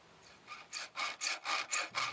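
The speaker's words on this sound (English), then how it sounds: "I used a hacksaw on the metal" A hacksaw cuts through metal door weatherstripping in steady back-and-forth strokes, about seven rasping passes. The strokes start faint and grow louder and even, heard close with no voices.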